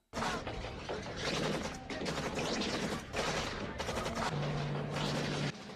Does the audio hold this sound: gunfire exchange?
yes